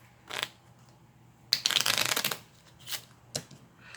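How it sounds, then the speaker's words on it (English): Black and white mini L'Esprit tarot deck being shuffled by hand, a few short papery riffles and a longer fluttering burst of cards, close and quiet with no talk. "So we're going to give it a shuffle."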